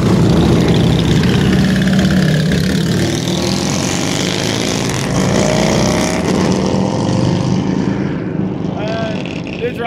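Motorcycle engines idle and rumble at a street gathering, a steady loud mechanical drone filling the whole stretch with busy crowd chatter and voices mixed in.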